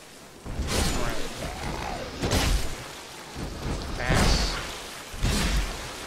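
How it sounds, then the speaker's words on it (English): Poison rain in Dark Souls II arrives as repeated loud rushing bursts of rainy, thunder-like noise, each swelling for about a second, with quieter gaps between them. "I love seeing poison rain."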